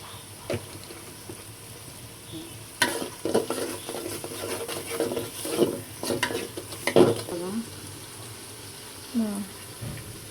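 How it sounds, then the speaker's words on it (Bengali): Spices with turmeric, chili powder and green chilies being stirred and sautéed in a pan, with repeated scraping, clinking spoon strokes over a steady low sizzle, close and moderately loud, irregular bursts of activity throughout. "হলুদ মরিচের গুঁড়া, কাঁচামরিচ দেওয়া আছে আমার। মশলাটা একটু একটু কষায় নেবো সামান্য।"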